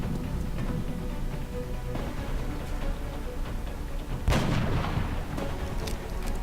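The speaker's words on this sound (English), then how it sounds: "So we're just gonna keep on shooting." Gunfire in the turn-based strategy game XCOM, with repeated shots and a louder burst near the end over a constant low background of game ambience.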